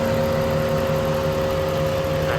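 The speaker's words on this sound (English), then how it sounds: "no, that's not the fan, that's the belt" A Lexus LS400 idles with its engine belt rubbing, making a steady, close engine hum with a sustained whining tone over continuous mechanical noise and no talk.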